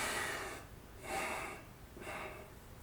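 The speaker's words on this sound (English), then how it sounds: "so that's 3-sip breathing" Three-sip breathing exercise: three soft, quick breaths in a steady rhythm, close and quiet, with nothing else heard.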